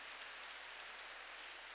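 A church congregation claps together during a Korean sermon, a dense, even wash of applause that holds steady and fairly faint for the whole short stretch.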